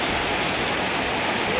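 Steady rain pours at Mahachai, an even, dense hiss of drops on surfaces continuing unbroken and fairly loud throughout.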